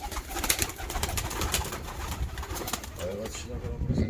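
Domestic tumbler pigeons in a coop coo softly and repeatedly, close by, under someone talking and other background noise.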